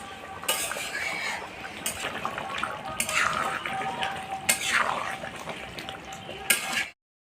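Chicken sautéing in a pan, letting off its water, with yogurt: a steady wet sizzle under repeated scraping and clinking strokes of a spoon against the pan, fairly close.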